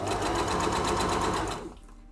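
A sewing machine stitching a pair of shorts runs in a close, steady mechanical whir of rapid needle strokes that winds down and stops near the end.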